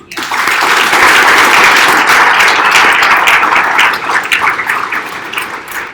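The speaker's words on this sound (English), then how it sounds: "So a round of applause for them." A large event audience gives a loud, sustained round of applause for the organising team, swelling quickly and holding steady for several seconds before thinning near the end.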